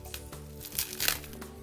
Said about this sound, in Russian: Открываем очередную посылочку.